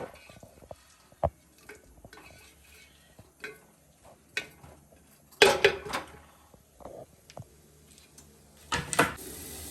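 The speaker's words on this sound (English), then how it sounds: "So we'll keep stirring a couple of minutes, like 3 or 4 minutes." Vegetable dum handi masala stirred in a pot, with sparse scrapes and knocks of a spoon against metal and a couple of louder clattering bursts, close up with no voices.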